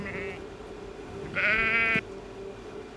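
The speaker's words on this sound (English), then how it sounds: "S is for sheep." A sheep bleats once, with a wavering, nasal cry lasting about half a second over a low steady background tone.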